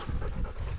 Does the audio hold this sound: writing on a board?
no